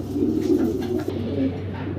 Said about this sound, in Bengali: অনেক কালারের ভিতরে অনেক ধরনের কবুতর আছে